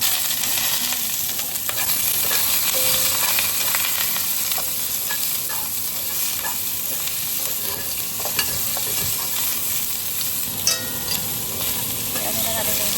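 Ginger and pork sizzling and crackling in hot oil over medium heat while being stirred for Chinese-style braised pork, a steady close frying hiss with occasional pops and scrapes.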